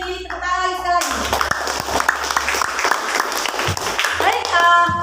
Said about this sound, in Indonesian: Tepuk tangan lagi sekali lagi